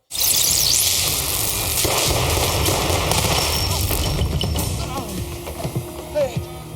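Bursts of gunfire in the film Black Easter (2021) crackle densely over a loud, busy soundtrack, with scattered sharper shots toward the end and voices faintly underneath.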